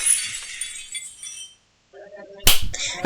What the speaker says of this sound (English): Why did the glass just break?